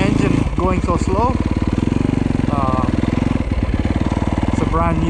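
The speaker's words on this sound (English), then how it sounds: "I don't want to overheat the engine going so slow." A newly built Yamaha YZ dirt bike engine putters slowly through snow, a steady close, loud rhythmic low thrum that rises briefly with throttle blips, while someone talks over it.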